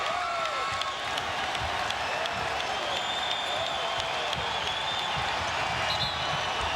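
A college basketball arena crowd roars steadily during a Syracuse Orange vs. DePaul Blue Demons game, a dense, sustained wash of cheering and applause that runs unbroken throughout.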